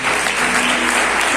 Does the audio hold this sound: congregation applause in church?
yes